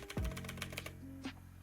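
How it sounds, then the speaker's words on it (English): Loud, rapid clacking of computer keys in a short burst, with a heavier thump at the start and a final key press. "I know my keyboard's loud"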